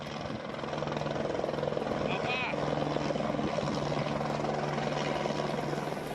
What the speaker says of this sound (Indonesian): Pemadaman dari udara juga dilakukan dengan menerjunkan helikopter waterbombing